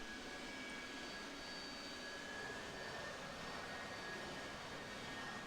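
Harrier jump jets attempt a vertical takeoff in a flight simulation game, with a steady, broad jet engine roar holding at a constant level throughout, alone and with no talking.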